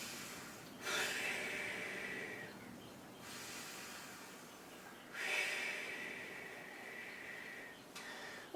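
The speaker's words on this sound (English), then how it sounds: "And good and deep breathing." A person takes slow, deep breaths during a hip exercise, with two long audible inhalations and exhalations a few seconds apart, soft and close with no talking.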